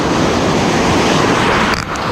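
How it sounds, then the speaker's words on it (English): Ocean surf breaking on a sandy Jersey Shore beach, a loud continuous wash of churning water and wind buffeting the microphone, with the roar dipping briefly near the end. "where the waves are kind of breaking up here"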